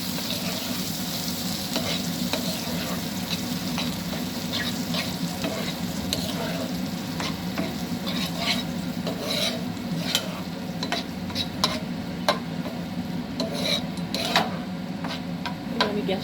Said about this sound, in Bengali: ভালো করে এবার এটাকে মিশিয়ে নেব।